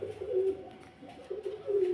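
Saharanpuri pigeons coo in low, throaty phrases, two bursts separated by a short lull, close and fairly clear with no talking.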